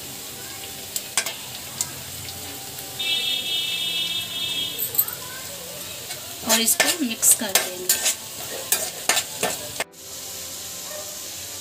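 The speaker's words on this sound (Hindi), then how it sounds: "अब इसमें डालते हैं हम लहसुन और हरी मिर्च।" Onion, garlic and green chilli sizzle softly in a hot pan while a utensil stirs and scrapes with clattering bursts; a voice speaks briefly in Hindi over the cooking.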